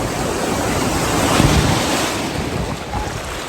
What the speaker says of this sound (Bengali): দেখেন কি বড় ঢেউ